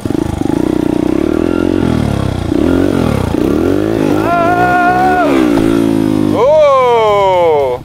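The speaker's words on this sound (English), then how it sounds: "I'm gonna pull back and give it gas to wheelie" A motorcycle is pulled up into a wheelie with the throttle opened. The engine revs loud and close, its pitch surging and falling in drawn-out sweeps before a final sharp rising rev.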